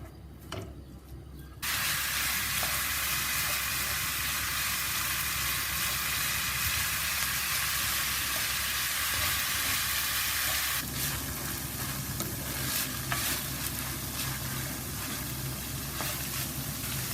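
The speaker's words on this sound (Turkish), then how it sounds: "500 gram dana kıymayı kavurmaya başlıyoruz. Yağını salana kadar kavuracağım." Five hundred grams of beef mince fries in a pan with a loud, steady sizzle and hiss that carries on without a break and grows denser partway through. No one speaks.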